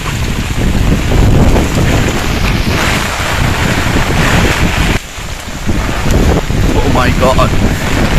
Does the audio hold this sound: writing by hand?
no